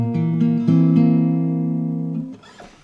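A guitar chord is played fingerstyle, the notes plucked in a quick run and left to ring out clearly, then fading at the end as a soft rustle of handling follows.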